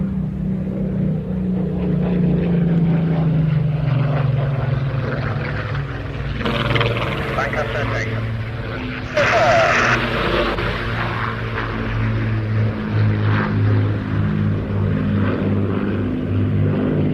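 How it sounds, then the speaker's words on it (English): A Spitfire and a Lancaster propeller aircraft fly past at an air show, making a loud, steady low drone that holds throughout. Brief rushing bursts of wind noise break in near the middle. "Now look from your left, the Spitfire, but from your right, the Lancaster."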